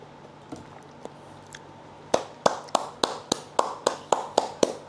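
A single person claps their hands about ten times in a steady, fairly quick rhythm. The claps are close and crisp, coming after a couple of faint taps in a quiet room.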